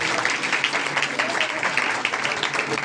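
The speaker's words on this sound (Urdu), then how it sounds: "ایک دفعہ پھر زوردار تالیاں بجائے سسٹر کے لیے" Sustained audience applause for a sister after her Good Friday sermon on the seven words of Jesus, a dense, steady clapping wash filling the hall for a few seconds without a break.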